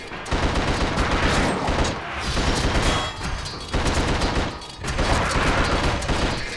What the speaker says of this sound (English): our Tommy gun is proving somewhat effective